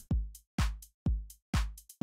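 An FL Studio drum pattern plays alone: booming kicks alternate with bright claps in a steady beat, with short crisp offbeat hi-hat ticks between them, clean and punchy.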